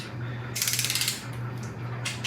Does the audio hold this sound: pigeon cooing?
no